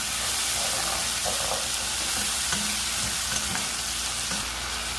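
Tomatoes and salt being stirred in a pan: a steady loud sizzle throughout, with a few soft scraping and clinking stirs of a spoon over it, close by.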